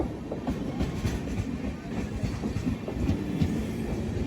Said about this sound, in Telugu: కోయంబత్తూర్ జంక్షన్ ముందు ఒక ట్రైన్ అయితే వెళ్ళిపోతుంది